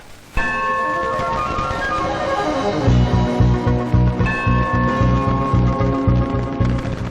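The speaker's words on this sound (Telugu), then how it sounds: "గంట కొట్టి అడగాలి" A temple bell is struck repeatedly in a steady rhythm, its bright ringing tones sustained and loud, with a low pulsing undertone beneath the strikes.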